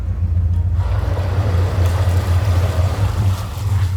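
A steady low canal boat engine drone runs throughout, with water and wind noise on top, loud and continuous; the boat has lost power and is stuck in reeds.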